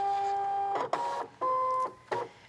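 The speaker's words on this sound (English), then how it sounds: "I'll load that mat into the machine." A fabric cutting machine loads a cutting mat holding fabric with short motorized whirring tones that start and stop in four quick bursts, broken by soft clicks, close and fairly quiet.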